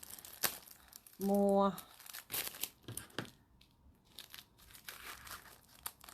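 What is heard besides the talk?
opening plastic packaging of a sewing kit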